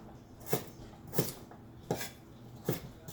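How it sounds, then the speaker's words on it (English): A knife cuts the tougher stems of Chinese broccoli on a board in four separate crisp chops, evenly spaced and close, with a quiet kitchen in between. "here I'm just going to give them a really easy, simple cut"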